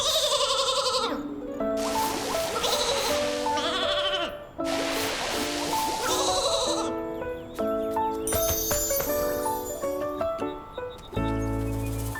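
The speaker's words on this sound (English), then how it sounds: "You may be the cuddliest Flora sheep, but you can't go around causing trouble." A Flora sheep in the video game Infinity Nikki bleats in a string of loud, close calls, mixed in with game music and chimes throughout.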